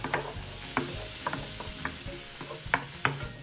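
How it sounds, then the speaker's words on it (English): Shrimp seasoned with Old Bay sizzle and fry steadily in a pan, with a few sharp clicks and scrapes of stirring breaking through the continuous crackle. "while that shrimp is cooking"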